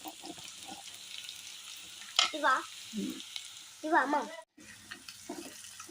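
Sprouted green gram is deep-fried and stirred for Telangana-style guggillu, a constant sizzle running throughout while brief murmuring voices rise over it in the middle.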